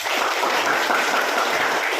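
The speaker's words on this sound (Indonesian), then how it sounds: "Oke, tepuk tangan untuk kita semua" A classroom of students clapping together during a lesson, a brief, even burst of hand claps with no speech over it.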